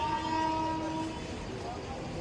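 A train at Chhatrapati Shivaji Terminus in Mumbai sounds a sustained horn tone that fades after about a second, over a busy station rumble.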